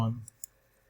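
A computer mouse clicks twice in quick succession, sharp and brief, just after a voice cuts off at the start.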